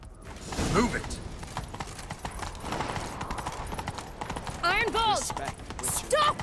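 Horse hooves clip-clopping in The Witcher 3 video game, a steady rhythmic clatter with creaking tack, a horse's whinny near the end, and voices speaking over it.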